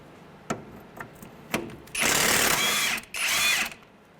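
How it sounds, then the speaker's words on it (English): Impact wrench spinning a strut nut on a 2003-2011 Honda Element: a few sharp tool clicks, then two loud, close rattling bursts of about a second each separated by a short pause. "So we're gonna use an impact on the nut."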